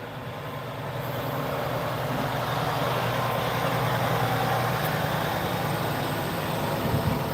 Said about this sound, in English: And that was definitely a Cummins.